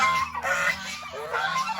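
A turkey calling nearby, a few honking, goose-like gobbles in quick succession, loud and close against a quiet background.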